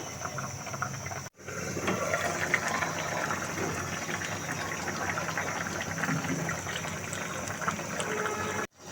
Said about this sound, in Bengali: এই তো বলক চলে আসছে